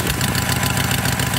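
A Harley-Davidson Iron 883 motorcycle idles steadily up close, its engine giving a continuous low, rumbling purr with an even pulsing beat and no voices.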